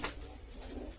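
A pigeon pair, an Abluk male and a Chile female, coo in a loft, giving one brief low throaty call close by amid light shuffling.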